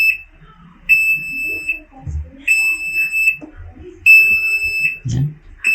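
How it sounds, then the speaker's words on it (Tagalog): Fujidenzo JWA 6000 VT washing machine beeping as it finishes, a series of high electronic tones in repeating pairs, loud and close, with soft handling noises between. "Ayan, beep yan siya, and then mamamatay na."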